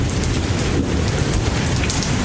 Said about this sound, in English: It was just rain sound effects now.